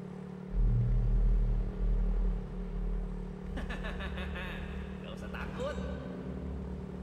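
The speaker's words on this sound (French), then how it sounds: "Et des taxis à moto, sympa." Motorcycle taxi engine in the video game DreadOut 2, a steady low rumble heard throughout, with louder low surges early and a light clattering layer later.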